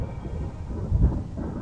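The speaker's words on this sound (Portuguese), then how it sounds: "A tempestade vai piorar." Rumbling thunder from a cartoon thunderstorm, a low sustained roll with a louder swell near the middle, heard alone without voices.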